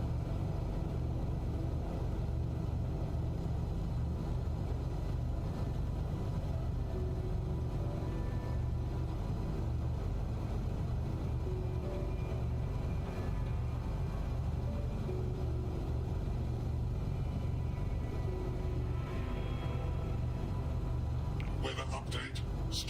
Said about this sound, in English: Temperature's going down, but still very much a superheated storm.